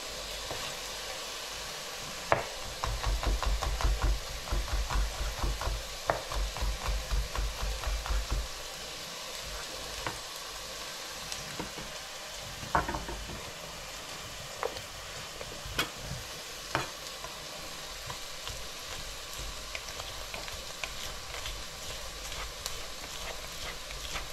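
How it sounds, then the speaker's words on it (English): Onions and garlic fry in a pan, a soft constant sizzle broken by a busy run of utensil scrapes and taps early on, then scattered clicks of stirring. "Onions look good. I'm going to add some garlic"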